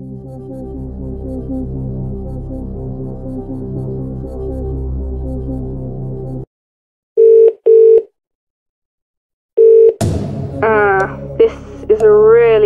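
Phone-a-friend sequence in a Who Wants to Be a Millionaire video game: a low sustained tone, then short beeping dial pulses separated by silence, followed by a speaking voice.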